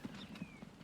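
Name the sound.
horse hooves clip-clopping in the video game Transport Fever 2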